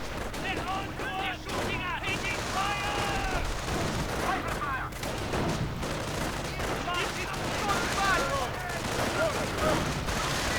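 Dense, continuous gunfire from riflemen and grenadiers in a World War II strategy game battle, overlapping shots and volleys under a commentator's steady talk.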